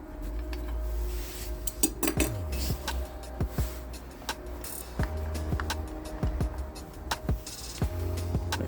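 Meatballs dropped into a Trangia Mini 28 camping pot, metal pans and utensils clinking and clattering repeatedly at close range.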